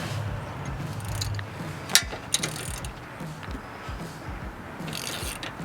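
Ratchet with an 18mm socket loosening bolts on a Jeep JT or JL, quick repeated clicking of the pawl with a couple of sharper metallic knocks near the middle, close and fairly quiet over low background hum.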